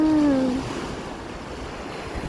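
Sea waves wash at a beach chalet in Kuwait, a steady broadband roar of surf with wind, and a brief tonal whine near the start; no one speaks.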